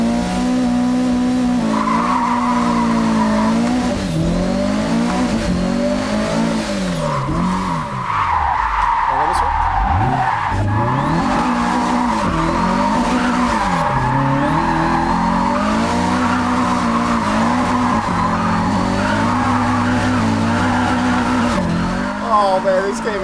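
Turbocharged JDM car drifting in a video game, with loud sustained tire squeal, revving engine and turbo whooshes rising and falling over about twenty seconds, while someone talks throughout.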